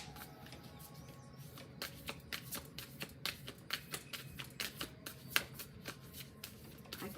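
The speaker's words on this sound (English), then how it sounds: "I can tell by how these cards shuffle." Tarot cards being shuffled by hand, a quick run of crisp riffling flutters and soft slaps repeating in uneven bursts close by, with no talking over them.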